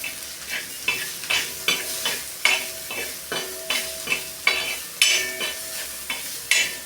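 Chutney frying in a pan on lowered gas heat is stirred in a steady rhythm, with regular spoon scrapes every half second or so over a continuous close sizzle, no voices.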